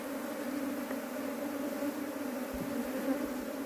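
A honeybee swarm arriving at a shed, a dense continuous buzz of many bees close by, steady and even with no voices.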